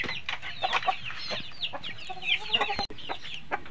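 A brooding hen clucks and chatters in short, irregular bursts, fairly close, with a brief sharp knock near the end and no speech.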